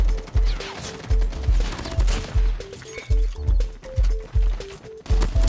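Rapid bursts of gunfire in Call of Duty Mobile, with punchy low thuds repeating in quick rhythmic volleys and a short tonal beep pattern running alongside, loud and continuous.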